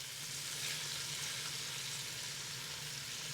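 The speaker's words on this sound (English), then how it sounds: "Once the oil is nice and hot, go ahead and add the shrimp in." Shrimp searing in hot oil in a pan, a steady bright sizzle and crackle, close and continuous with no talking.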